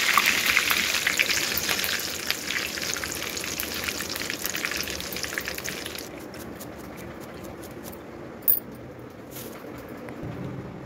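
Curry leaves fried in hot oil for poha chivda, a dense close crackling sizzle that is loud at first, then settles into a quieter steady spatter with one brief pop near the end.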